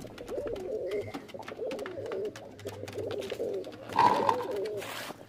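Black-spotted Madras pigeons cooing in a loft, soft repeated rolling coos close by, several birds overlapping at a quiet level with a brief louder flutter near the end.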